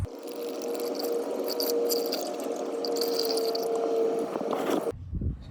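Motor oil glugging and pouring from a five-quart jug into the engine of a 2023 Coachmen Nova ProMaster van, a steady close-up liquid rush that stops abruptly near the end.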